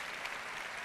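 Audience applause at the 2005 Kral Music Awards show, a steady wash of many hands clapping in a large hall, moderately loud and continuous without pause.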